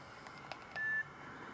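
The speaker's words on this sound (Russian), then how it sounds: "Нажимаем на С и клавишу выбора попадаем в варианты." A Nokia 2600 phone keypad gives a single short, clear beep after a couple of faint key clicks, in an otherwise quiet room.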